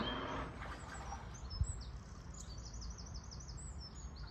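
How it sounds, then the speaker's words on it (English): Faint bird chirps and twittering calls over a low, steady background rumble aboard a narrowboat, with a single soft thump partway through. "Birds are in fine fettle today."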